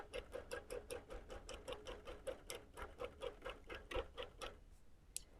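A sewing machine runs a straight line of stitching along a quilted pillow border, with a quiet, regular ticking of needle strokes and light mechanical patter through most of the stretch.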